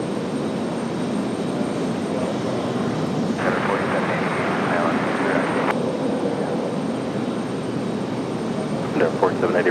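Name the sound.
Delta airliner approaching RDU airport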